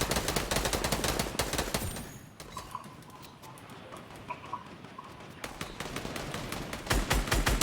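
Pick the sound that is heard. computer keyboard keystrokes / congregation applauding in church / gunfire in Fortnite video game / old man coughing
gunfire in Fortnite video game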